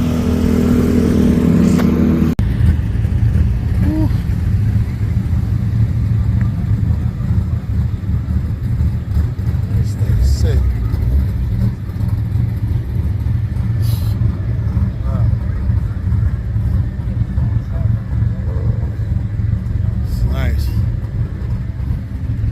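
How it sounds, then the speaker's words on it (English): Car with a Viper engine at a Cadillac drag racing event, a loud, steady low engine rumble with faint clatter and distant crowd noise throughout, preceded by a brief burst of louder sound at the start. "Viper engine."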